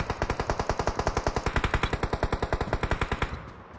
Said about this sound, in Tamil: மேலேயே சைடுல சத்தம் போயிட்டு இருக்கு. சத்தம் கேக்குதியா? ஃபயர் பண்றானுங்க.